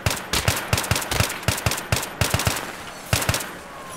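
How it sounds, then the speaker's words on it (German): Gunfire in the military shooter Battlefield 3, a close series of sharp single shots fired at a steady, fairly quick pace, with a short pause near the end before a few final rounds. "Langsame Schüsse abgeben."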